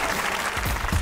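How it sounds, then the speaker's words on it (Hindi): Studio audience clapping on a Pakistani comedy talk show, a dense, steady wash of applause filling the whole second with no voices on top. "तालियां!"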